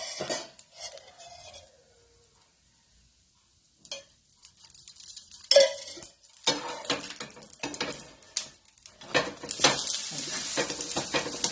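Moong dal bun dosa roasting in oil on a pan over medium gas, with soft intermittent sizzling, gaps of near silence and clinks and scrapes of utensils against the pan.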